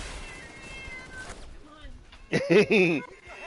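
Cats meowing in the video game Division 2, a few short wavering meows clustered near the end, loud and close, after a stretch of background game noise.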